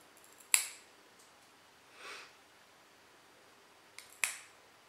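A sphynx cat's nails being trimmed with clippers: two crisp, close snips several seconds apart, the second a quick double click, with quiet in between.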